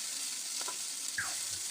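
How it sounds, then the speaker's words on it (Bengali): Grated carrot, chopped capsicum and chopped onion fry in a pan with a steady, close hiss, broken by a few soft stirring scrapes near the end. "এবার এগুলোকে দিয়ে আরও কিছুক্ষণ এইভাবে ভেজে নিচ্ছি"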